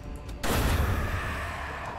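A gunner firing a gun in the video game Darkest Dungeon, heard as one loud, booming shot that breaks in abruptly and then trails off into a long, rumbling decay.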